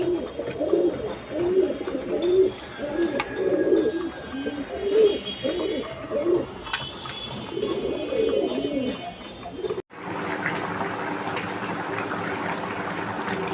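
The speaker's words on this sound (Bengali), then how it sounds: "ঘুঘু কবুতর এরা খেতে থাকুক" Doves and pigeons feeding at a home coo in repeated soft, low phrases close by, and the scene then cuts abruptly to a steady, hissy indoor background.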